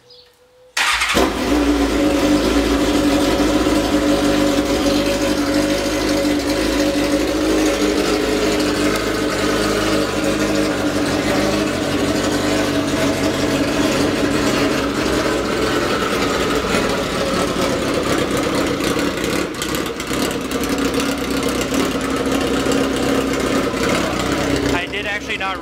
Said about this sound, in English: let me show you guys how this bike sounds